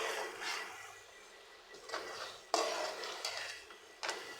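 Chicken fry being stirred in oil in a pan, with repeated scraping and clinking of a metal spoon against the pan under a gentle sizzle, close and moderately quiet.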